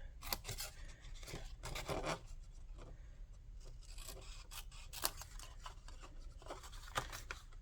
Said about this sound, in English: first I have to cut the flaps off.